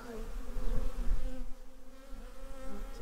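Honeybees buzz around a pollen trap at the entrance of a hive, a continuous close drone with shifting pitch as individual bees pass near.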